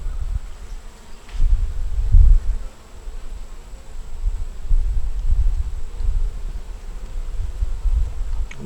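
Honey bees buzz over hive frames holding a little honey and comb, a close, continuous low drone that rises and falls in uneven swells, with no talk.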